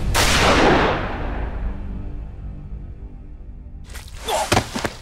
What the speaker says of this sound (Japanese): 銃声がしたから駆けつけたのよ。